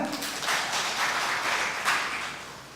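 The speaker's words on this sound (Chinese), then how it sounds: "掌声鼓励一下" Church congregation applauding during a Taiwanese-language worship service, a brief soft patter of scattered clapping from a hall of people, rising and fading over a few seconds.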